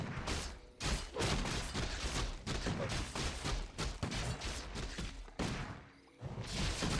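Rifle gunfire crackles through a Warcraft III battle between human riflemen and attacking units, a dense continuous barrage of shots and impacts with brief lulls, loud and close in the game mix.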